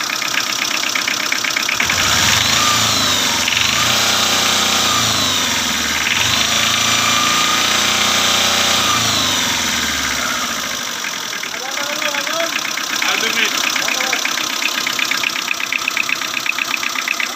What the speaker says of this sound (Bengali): প্রিয় দর্শক, ইঞ্জিনের সাউন্ডটা দেখলেন আপনারা